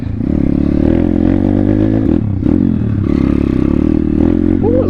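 A pit bike engine drones loud and steady as it rides through mud and floodwater, with clattering and scraping over the continuous motor, recorded close and at a constant level.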